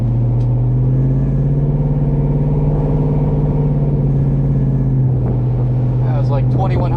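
A cammed LQ4 Silverado with exhaust cutouts open burbles at light throttle, a loud, deep, steady rumble with a choppy lope held close throughout; a voice talks faintly over it near the end.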